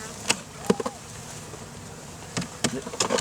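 Honeybees hum steadily at close range as a hive frame is lifted out, with a few sharp clicks and knocks from handling breaking through the buzzing.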